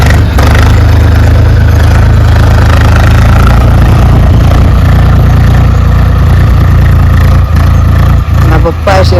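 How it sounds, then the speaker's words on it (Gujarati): A tractor engine runs in a farm field, producing a loud, steady low rumble with a constant throb that continues for the whole stretch, while voices talk underneath it. "આપણે આવો ટ્રેક્ટર આવી ગયો ખેતરમાં"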